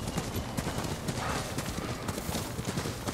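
Horse hooves gallop in the video game Ghost of Tsushima, a steady rapid clip-clop that runs unbroken through the whole stretch at moderate level, with faint game ambience around it.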